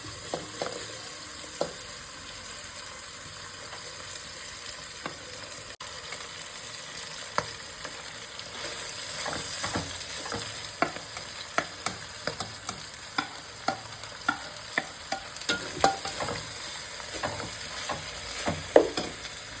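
Onions frying in a pan for chicken biryani, a steady sizzle with frequent sharp scrapes and clicks of stirring that grow busier and louder toward the end, no voices.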